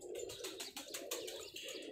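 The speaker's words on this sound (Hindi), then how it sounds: "बहुत ही तगड़े और लाजवाब कबूतर है माशाल्लाह।" Breeder pigeons coo softly in a steady, pulsing run of low throaty calls, fairly close, with faint chirps above and no talk.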